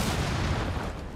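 A grenade detonating in the video game Rainbow Six Siege, one short, loud, low rumbling blast that fills the moment and fades slightly within about a second.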